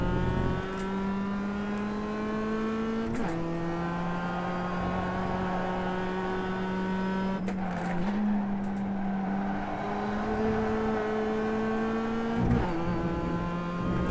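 A Mazda MX-5 Cup race car in the iRacing sim at Okayama International Circuit drones steadily at high revs through the whole stretch, with brief dips at gear changes, and there is no talking.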